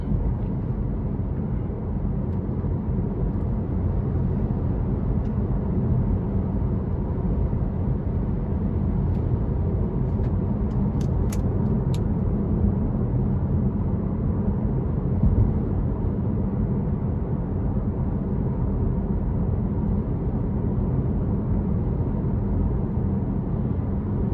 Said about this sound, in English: just a really smooth ride coming down this stretch of road